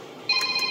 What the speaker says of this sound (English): My girlfriend got a phone call.